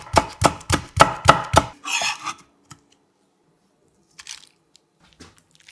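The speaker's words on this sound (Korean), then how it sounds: "매콤 깔끔하게 청양고추 향기는 반을 갈라 송송 썰어 담고" A knife slices Cheongyang green chili on a cutting board in six quick, evenly spaced crunchy chops up close, followed by a brief rustle and a few faint scattered taps.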